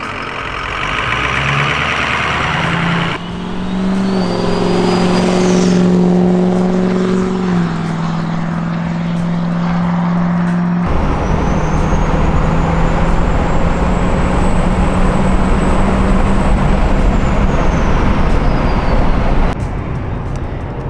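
6.0 Powerstroke diesel truck fitted with a compound turbo kit driving down a street, a steady engine drone with gear changes and turbo whine rising and fading, heard from nearby.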